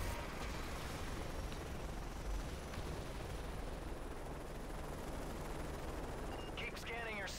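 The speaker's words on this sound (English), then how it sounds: "We're taking heavy fire." Heavy gunfire rattles steadily through a Call of Duty: Modern Warfare 3 firefight, a dense, continuous roar of shots and battle noise, with a brief higher whistling burst near the end.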